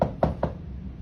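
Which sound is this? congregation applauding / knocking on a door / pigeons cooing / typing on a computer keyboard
knocking on a door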